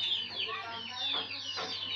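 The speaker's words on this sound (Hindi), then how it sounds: "ये देखिए कितने ही प्यारे चिक्स हैं" Desi chicks cheep and cluck up close in a busy, overlapping flutter of high calls. A low hum runs steadily underneath.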